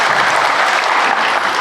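An audience at a question-and-answer talk event bursts into steady, dense applause, loud and close, continuing without a break.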